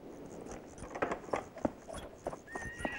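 Horse hooves clip-clop in an uneven rhythm with a high whinny toward the end, moderately close, against a busy outdoor background with faint voices.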